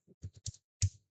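Keystrokes on a computer keyboard during a beginner editing task, a short burst of about five close, crisp clicks in quick succession, the last one louder, with no talk.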